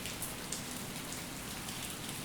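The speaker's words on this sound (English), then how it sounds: "Only sound remained. Rain, wind, breathing." Steady rain patters on a surface while wind blows, a continuous broadband hiss with scattered drop impacts, even and moderately soft with no voices.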